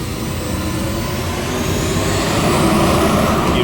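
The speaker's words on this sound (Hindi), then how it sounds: "अब तो इस ड्रोन का पीछा ही करना पड़ेगा" A drone in flight gives off a loud, continuous whirring roar that holds steady and swells slightly, with no voices over it.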